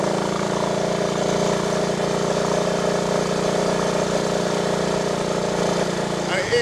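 A 1958 Triumph Tiger Cub motorcycle engine runs while being ridden, giving a steady, continuous mid-pitched drone that stays close and even throughout, with talking heard over it.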